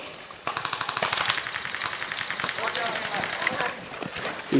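Airsoft guns fire in rapid bursts during an intense airsoft game, loud clattering volleys of shots crackling close by and continuing throughout, with voices talking over the gunfire.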